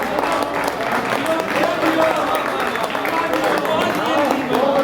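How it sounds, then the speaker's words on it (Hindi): Applause from an audience at an Urdu poetry mushaira in Lahore, steady clapping mixed with crowd voices and calls of appreciation throughout. "बाबा साहब के लिए जोरदार तालियां"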